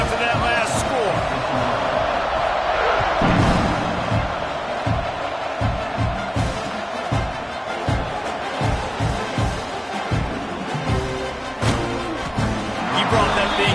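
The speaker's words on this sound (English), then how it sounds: "this crowd is buzzing after that last score" Stadium crowd in the NCAA 26 college football video game, a dense continuous murmur and buzz with repeated thuds and bursts running throughout, under a commentator's voice.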